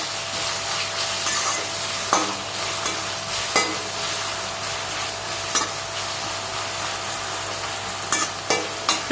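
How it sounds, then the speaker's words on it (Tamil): Onion and tomato sauté in a pan for semiya biriyani, a steady close sizzle broken every few seconds by sharp scrapes of a spoon stirring against the pan. "அந்த ஒரு தக்காளியும் போட்டு இதுலேயே நல்லா வதக்கி விடுங்க."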